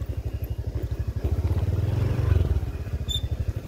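A motorcycle creeps over a sharp, rocky mountain road in West Sumatra on a light throttle. Its engine thuds in a steady, fast pulse and stays close and even throughout.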